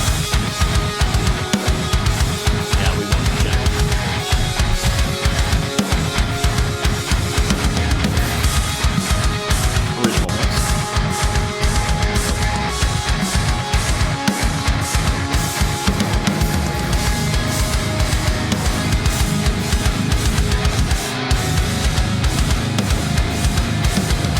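Lead guitar rings out with stereo delay and reverb over a dense, loud full-band backing that continues without a break.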